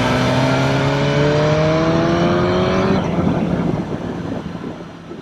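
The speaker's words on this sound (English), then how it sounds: "You still get that amazing induction roar." A BMW S1000R motorcycle revs hard, its exhaust and induction roar climbing in pitch through rising gears, loud and close, then dropping away into a fading, rougher rumble.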